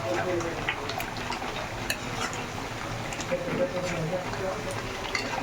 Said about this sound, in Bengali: গরম মশলাটা পুরো মিক্সড করে দিয়েছি